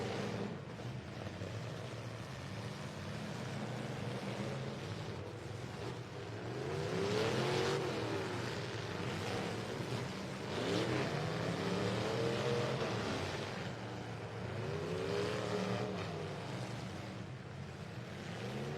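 A race car engine revving on the throttle at a Midwest racetrack, rising and falling in repeated swelling passes at moderate distance over steady crowd and wind noise, with no talking.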